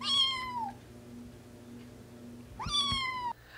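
A kitten meows twice, once at the start and once near the end. Both calls are clear, high and close, with a quiet, faintly humming room in between.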